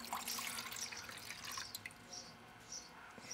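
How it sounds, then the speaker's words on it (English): Water pours and drips into a small cooking pot of a solo hiking alcohol stove kit, a faint splashing trickle that breaks into scattered drips, close and quiet. "I'm just going to put actually a cup of water in here right now."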